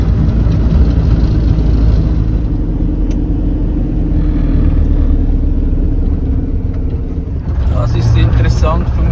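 A camper van descending a hill in low gear on engine braking, its engine droning loud and steady at high revs, with a low rumble throughout and a voice talking over it.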